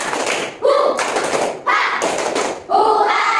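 A classroom of children does the rhythmic 'tepuk semangat' chant, loud and close. Bursts of clapping alternate with shouted syllables in a steady repeating pattern.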